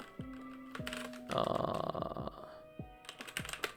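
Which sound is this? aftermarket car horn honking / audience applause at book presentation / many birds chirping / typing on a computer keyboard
typing on a computer keyboard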